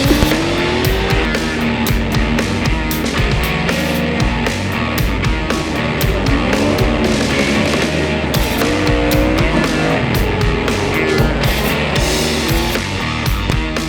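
A race car engine howls loudly and continuously as it laps a track, with rising and falling harmonic tones through gear changes and corners and faint tire noise.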